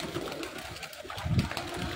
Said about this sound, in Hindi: बिल्कुल सादे कबूतर हैं, बैठेंगे यहीं